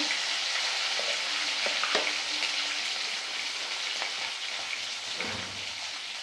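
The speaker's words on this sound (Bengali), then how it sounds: "এখন এই চিংড়িগুলো এর মধ্যে দিয়ে এটাকে আমি লাল করে ভেজে তুলে নেব" Prawns frying red in a pan with salt and turmeric give a steady, close hiss of hot oil, broken now and then by soft scrapes of a spatula.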